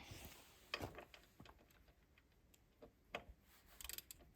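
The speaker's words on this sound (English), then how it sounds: "So I put my Torx in there. It's gonna click right away." A Torx wrench clicks on the handlebar bolt of a RadPower RadExpand 5 e-bike, giving a few sharp, close ratcheting clicks scattered over faint background noise, with a quick burst near the end.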